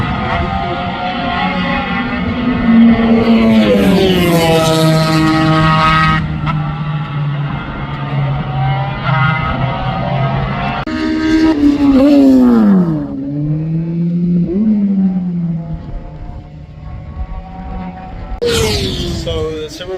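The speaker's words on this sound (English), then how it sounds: "So the Superbikes have just started their qualifying session." Superbikes in a qualifying session scream past one after another, their engine notes climbing and then dropping sharply as each machine sweeps by, loud and close, with brief gaps between passes.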